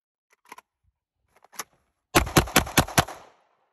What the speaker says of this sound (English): I'm shooting a five-shot string, I'll shoot it, and then we'll talk about it